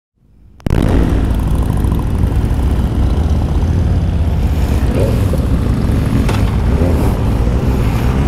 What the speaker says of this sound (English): Guys, so here we start a ride. So we have around 11 bikes. Oh, beautiful exhaust of the Z800.